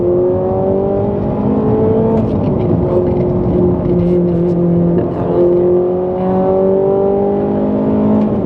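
A Ferrari 458 Italia accelerates hard, its engine note climbing in pitch through successive gear pulls with brief dips between them, loud and close from inside the car, with no voices.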